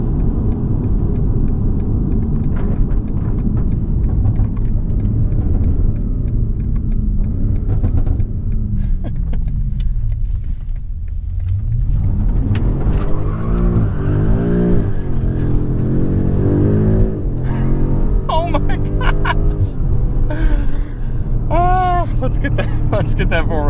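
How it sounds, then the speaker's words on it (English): A 2021 BMW M5 on a test drive rumbles at low speed, then its engine note sweeps down and climbs again in a hard, loud acceleration with rising revs and gear-like steps, heard from inside the car. "Let's get up to this next stop sign here and do a little slide out, and then we'll demonstrate the launch control"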